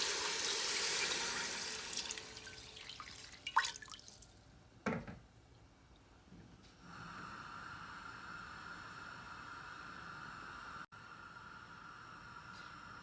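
Water splashes and pours into a pan at close range, with a few clanks, then settles into a steady, softer rushing hiss.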